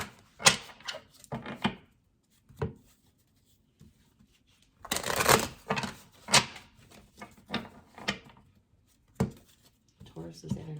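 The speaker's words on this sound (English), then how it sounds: "Let's grab our cards really quick, give them a shuffle" Tarot cards are shuffled by hand in several short, crisp riffling bursts separated by quiet gaps, close to the microphone.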